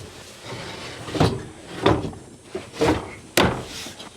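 Cab panel of a 2024 Kawasaki Mule PRO-FXT 1000 utility vehicle slapped down: a series of sharp knocks and thumps, four distinct hits over steady background noise.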